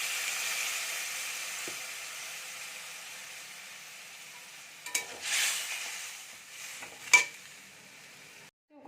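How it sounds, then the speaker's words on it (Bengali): Fish frying in hot oil in a pan gives a steady, quiet sizzle throughout. A few louder clatters and bursts of stirring come near the end, and no one speaks. "কড়াইতে তেল দিয়ে দিয়েছি, মাছগুলো এখন ভেজে নেব।"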